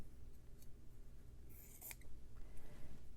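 Scissors snip through fabric, cutting a small hat shape for a snowman tag. The cuts come as a few faint, crisp snips over a soft background hiss, with one sharper cut near the middle.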